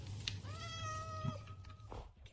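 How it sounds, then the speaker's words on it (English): A single cat meows once in Minecraft, a clear, drawn-out in-game mew heard over a low background hum. "Okay, we got a cat running."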